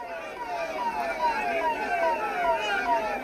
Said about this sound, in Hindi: देखिए, सायरन की आवाज जो है वो सुनाई दे रही होगी स्क्रीन पर